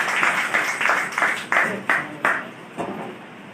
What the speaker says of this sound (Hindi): तालियां यार तालियां